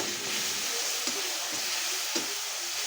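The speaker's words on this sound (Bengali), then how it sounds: "আমি এখন তেলের মধ্যে মশলা দিয়ে দিই" Spices frying in hot oil with potatoes, a soft continuous sizzle with a few faint stirring scrapes, close and alone without talk.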